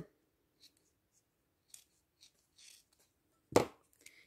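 Scissors cut material for a Christmas train craft made from recycled odds and ends: a few quiet, scattered snips in near silence, then one sharper, louder cut near the end followed by faint handling sounds.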